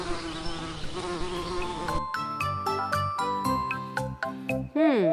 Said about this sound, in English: It's a honeybee.